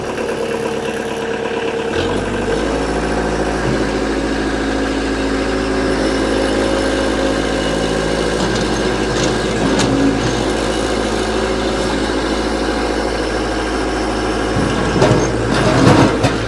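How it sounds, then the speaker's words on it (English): A 2011 Kubota B3200HSD compact tractor's diesel engine cranks briefly, catches and settles into a steady, loud, close idle that holds evenly for over a dozen seconds, with a slight rev near the end. "we're going to fire this tractor up"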